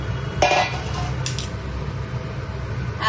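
Fried potato and radish pieces go into a cooking pot of country chicken curry, giving a couple of light clinks and knocks over a steady background hum.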